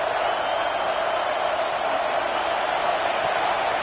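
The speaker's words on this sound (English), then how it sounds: "The Tide crowd rolling noise down onto Saban Field on third down." A stadium crowd in an NCAA football video game, Alabama against Mizzou, roars in a loud, steady wash of noise on third down, with no break for its whole length.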